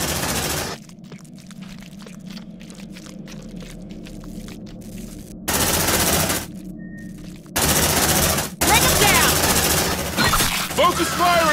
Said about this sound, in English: Sentry gun fixed!